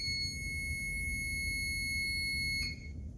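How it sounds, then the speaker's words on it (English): An electronic buzzer sealed inside a cut-open tennis ball with a battery emits a steady, piercing high-pitched tone that drones continuously, close and loud, with a brief click near the end. "it has a little buzzer. Now when I turn the buzzer on, it makes a noise."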